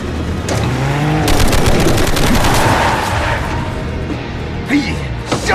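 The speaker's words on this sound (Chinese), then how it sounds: "他们要开火了，快点，快点！" Rapid bursts of gunfire from rifles and machine guns crackle in a dramatized shootout from the series Mysterious Treasures, dense volleys loud and close over a rumbling, engine-like background, with a few scattered shots toward the end.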